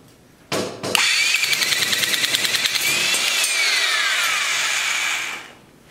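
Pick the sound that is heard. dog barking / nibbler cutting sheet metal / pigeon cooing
nibbler cutting sheet metal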